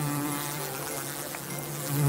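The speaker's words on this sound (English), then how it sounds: "a massive swarm of bees got into the BBC's computer systems" A massive swarm of bees buzzes as a comedy sound effect, a loud and continuous droning hum that fills the whole stretch on its own, with no voices.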